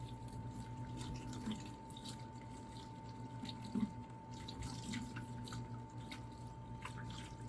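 Hands rinsed under a running tap on a small farm, water from the faucet falling steadily into a gray water bucket, a continuous close splashing wash with a faint steady hum beneath.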